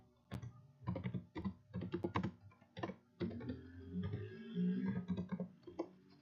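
Typing on a computer keyboard, close clacking keystrokes in quick irregular bursts with short pauses, alone and with no talking.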